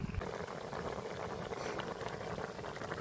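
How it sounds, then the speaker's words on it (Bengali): A pot of fish curry broth with half-cooked potatoes bubbles at a steady, rolling boil, a dense close-up simmering hiss that runs evenly throughout with no talk. "ঝোলটা ভালো করে ফুটে গেছে"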